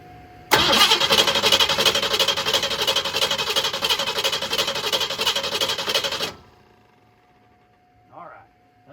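A 1966 Ford Mustang convertible engine, a farm find, cranked through jumper wires, grinds loud and steady for about six seconds before cutting off abruptly into near quiet with a couple of faint sounds.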